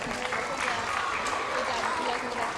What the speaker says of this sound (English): You guys did a round of applause.